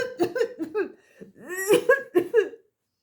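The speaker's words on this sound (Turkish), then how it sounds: "Bilge çok öksürür, çok su yutmuştur." A child coughs and splutters after swallowing too much water while playing at sea, a burst of rough, choking coughs with gasping breaths, close and fairly loud, followed by a short laugh-like run of spluttering.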